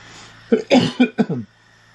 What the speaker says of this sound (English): I know that coughing is very loud